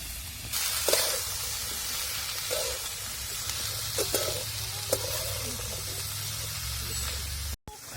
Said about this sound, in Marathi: पाच मिनटं कसं राहून द्यायचं आणि परतून द्यायचं भोपळ मसाल्यामध्ये